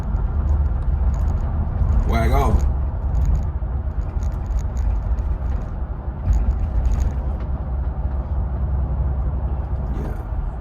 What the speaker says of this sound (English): So I'm just driving in this lovely AMG Mercedes-Benz G Wagon.